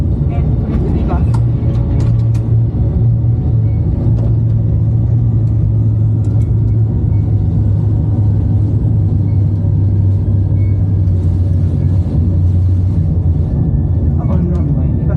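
Boeing 737 MAX jet engines spooling into reverse thrust after touchdown in a flight simulator, a sustained loud low roar that holds steady for many seconds.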